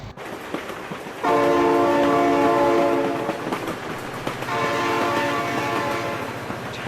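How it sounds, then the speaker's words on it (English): Train horn blaring from an approaching train in the BeamNG video game, two loud sustained blasts separated by a short gap over continuous rumbling rail noise. "Oh my god, train!"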